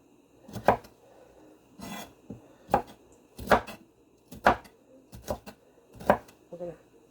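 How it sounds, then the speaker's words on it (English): Broccoli being cut into small bits with a knife on a board, about eight separate dull chops at an uneven pace, close and fairly loud, with no talk. "So I am just cutting up these broccoli into smaller bits."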